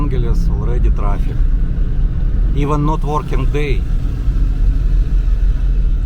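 Steady street traffic rumbles through Angeles City on a sunny day after a typhoon, cars and engines droning continuously underneath someone talking close by.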